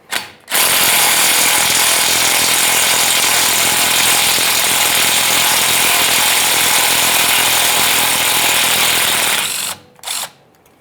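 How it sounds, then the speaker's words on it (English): A power ratchet whirs continuously at close range for several seconds, loosening a 10mm bolt on the flex hose bracket at the rear differential of a 2015-2020 Ford F-150, then stops with two brief short bursts. "We can remove that bolt."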